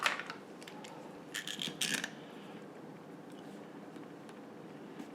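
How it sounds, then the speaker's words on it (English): Clamps tighten across the top and bottom of a segmented 7mm pen blank, making a few brief ratcheting clicks and small mechanical bursts in the first two seconds. Faint room quiet follows. "A clamp on the top, clamp on the bottom, simply to hold them into place."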